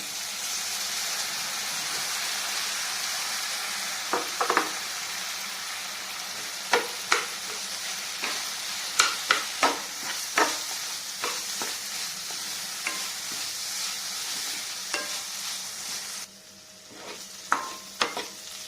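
Washed moong dal is stirred and fried in a pan, giving a soft steady sizzle with a run of sharp scraping taps from the spoon, quieter near the end.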